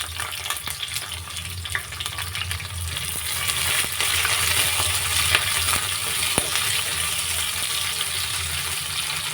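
Chopped onion, cumin and curry leaves frying in hot oil give a dense, steady sizzle with faint clicks of a stirring spoon. The sizzle is close and continuous and grows slightly louder partway through.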